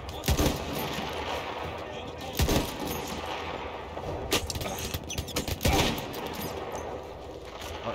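Gunfire in Battlefield 1 on the Seddülbahir story mission: sharp rifle and machine-gun bursts that crack out in irregular clusters over a busy battlefield bed, with faint voices around them.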